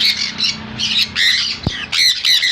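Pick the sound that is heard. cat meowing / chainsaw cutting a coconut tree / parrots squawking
parrots squawking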